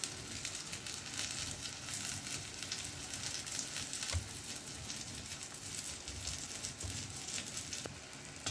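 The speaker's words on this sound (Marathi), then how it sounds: "मिरच्या तळून झालेले आहे।" Green chilies for mirchi bhaji fry in hot oil, giving a steady, dense sizzle with occasional soft crackles throughout. There is no talk.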